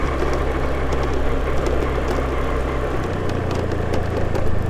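A motorbike riding on a smooth asphalt road near Angkor Wat in Cambodia, with a steady engine drone and wind rush, close and continuous, the engine pitch shifting partway through.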